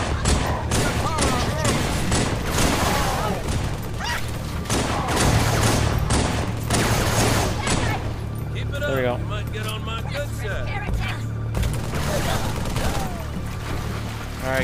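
Rapid bursts of automatic gunfire in the Halo 3 video game, repeated volleys crackling through most of the stretch, with game voices talking over and between the shots.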